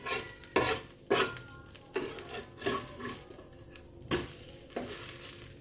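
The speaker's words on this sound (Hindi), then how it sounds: "इसी तरह से आप उलट पलट कर इसको सेक लीजिए क्रंची होने तक" Semolina snack shallow-frying in a pan until crunchy, with a constant sizzle broken by roughly eight sharp spatula scrapes and clinks against the pan as pieces are flipped, close up, no talking.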